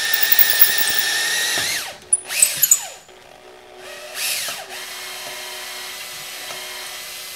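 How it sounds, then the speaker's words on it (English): A power drill with a stepped bit bores through a Honda 3.5 liter engine's intake manifold to clear the EGR passageway, whining loudly in sustained bursts with sharp squeals and pauses between passes, no voices. "Now that we're done drilling our EGR passageway"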